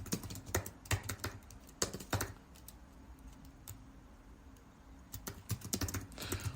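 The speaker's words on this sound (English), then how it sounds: "Let me type it." Fingers type on a computer keyboard, with quick clusters of close clicking keystrokes at the start and end and a quieter stretch in between.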